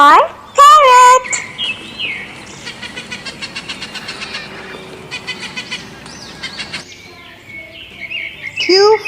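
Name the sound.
parrot call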